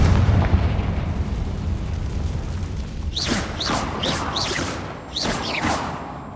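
Booming blasts from the Confringo blasting spell in the Hogwarts Legacy video game: a low rumbling burst, then a quick series of sharp, cracking explosions, with no talking.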